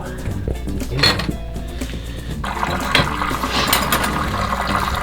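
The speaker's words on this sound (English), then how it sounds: "I feel like I'm playing Jenga over here with dishes." Washed dishes being stacked into a cramped dish rack in an Airstream trailer kitchen, with repeated clinks and clatters of plates and utensils over faint running water, close and fairly loud.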